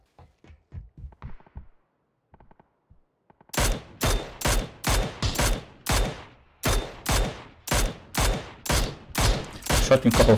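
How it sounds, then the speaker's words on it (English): Gunshots in PUBG Battlegrounds first-person mode, a steady run of a dozen or so loud, evenly spaced shots following a few quiet sounds and a brief pause. "Shot him a couple of times."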